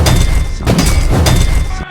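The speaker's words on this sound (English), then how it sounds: "John takes the sledgehammer into the basement and begins smashing the floor open." A sledgehammer smashes open a basement floor in a film scene, heavy crashing and breaking impacts repeating roughly every half second, loud and close, with rubble noise between blows.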